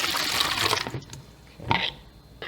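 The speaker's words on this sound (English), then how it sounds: "So I will pour the yeast with the brown sugar in the bottles." Liquid yeast mixed with brown sugar is poured into beer bottles for homebrew priming, giving short splashing, trickling bursts with a pause in the middle and no talk.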